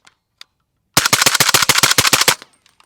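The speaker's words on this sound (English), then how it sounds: "So we're gonna try some SuperVel 200 grain subs right now." A suppressed DPMS Kitty Kat rifle fires SuperVel 200 grain subsonic rounds in a rapid burst of roughly a dozen close, punchy thuds lasting about a second and a half, with faint clicks before and after.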